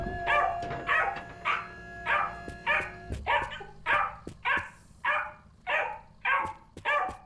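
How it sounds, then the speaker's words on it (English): Dogs bark in a steady series of about a dozen loud, evenly spaced barks close by. A faint hum sits underneath and no one talks. "I don't mind just letting them bark."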